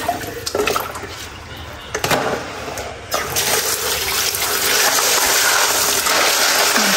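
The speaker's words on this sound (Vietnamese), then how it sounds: "Mình chà như vậy nè, cho cái con hến nó va chạm với nhau á" Clams soaked overnight are scrubbed together by hand in a basin of water, with sloshing, splashing and gushing water plus brief clacking knocks, close and loud, growing into a continuous rush.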